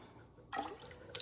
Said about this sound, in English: As always, there's a lot of water and it spills.